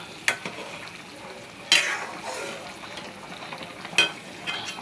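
Taro root being checked with a metal spatula in a pan while cooking, with a few sharp scraping clinks standing out above a soft steady sizzle.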